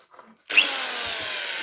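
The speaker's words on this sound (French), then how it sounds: "De façon à pouvoir prendre la perceuse sans fil" A cordless drill boring a hole during a lockdown instrument-making (lutherie) project, starting abruptly after a brief quiet moment and running as a steady, loud whirring drone to the end.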